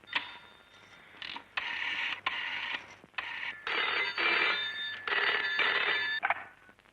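Telephone in use to place a call in a Rajasthani family drama film, with repeated bursts of ringing or dial tones broken by short pauses, fairly loud and with no talk.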